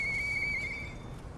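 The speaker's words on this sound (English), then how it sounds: "take this whistle and click on it and hit use" A single whistle blown in the game Lies of P, a bright steady tone lasting just under a second and then fading, heard alone.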